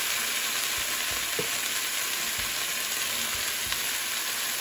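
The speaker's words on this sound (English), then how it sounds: "After the mint leaves fry a little, add the potatoes." Potatoes frying in a pan with mint leaves and peas for aloo bath, a steady broadband sizzle running throughout, with a few faint low knocks of stirring.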